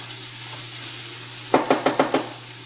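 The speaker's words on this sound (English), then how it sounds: "They are getting coated with the olive oil. And I'm going to let this cook until the onions become translucent or clear." Onions and peppers sizzle steadily in olive oil in a pan, a soft continuous crackle, then five quick clacks of a spoon against the pan near the end. No one speaks.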